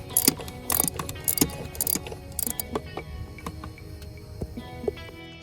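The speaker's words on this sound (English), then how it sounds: "I decided to get a ratchet to make it much easier." Ratchet clicking as it turns out a bolt on the engine cover of a BMW B58 engine, quick rattling bursts at first, then slower, fainter individual clicks, close up with no talking.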